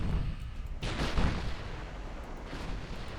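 Naval gunfire broadsides in the Ultimate Admiral Dreadnoughts game: booming cannon blasts over a rumbling battle backdrop, one heavy volley followed by a softer distant report, with no talking.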